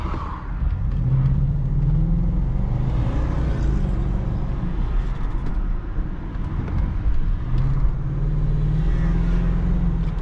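Inside a remapped BMW X5 E53 4.4i V8 on city streets, the engine hums steadily and rises twice in revving pulls, with continuous road rumble and no speech.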